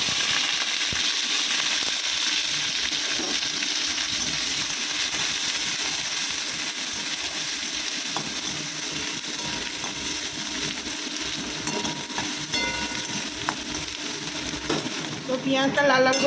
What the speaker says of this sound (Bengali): পেঁয়াজ আর কাঁচা লঙ্কা এটা লাল লাল করে ভেজে নেব।